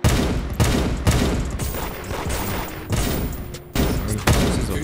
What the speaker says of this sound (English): 5 people shooting at me